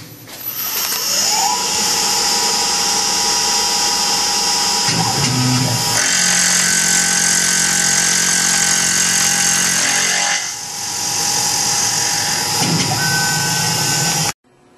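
A Tormach PCNC 1100 mill cutter machining metal, a loud sustained whine and grinding drone whose pitch and texture shift as the cut changes, running steadily for about fourteen seconds before cutting off abruptly.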